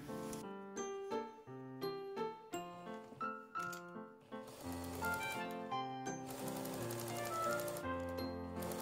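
Sewing machine stitching a gathered skirt's side seam with a seam pocket at a 1 cm seam allowance, heard as quick rhythmic bursts of mechanical stitching separated by short pauses, then a longer continuous run.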